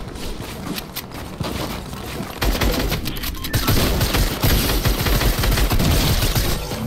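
Rapid bursts of gunfire from the video game Fortnite in a Team Rumble match, loud and dense, with automatic fire and sharp shots stacking into a continuous barrage that grows heavier midway.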